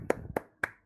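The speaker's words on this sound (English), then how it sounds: "clap please" Three separate hand claps, evenly spaced and fairly close, from people reacting during a live anime watch-along; no voices over them.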